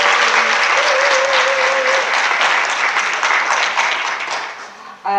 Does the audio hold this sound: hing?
no